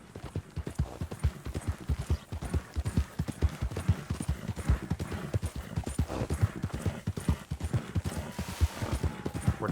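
Horse hooves clip-clop at a steady trotting rhythm on a trail in Red Dead Redemption 2, close and continuous with faint background noise.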